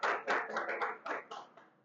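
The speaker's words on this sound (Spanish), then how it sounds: "Aplausos, aplausos." Several people clapping briefly at a business talk, a short burst of close, distinct hand claps that tails off within two seconds.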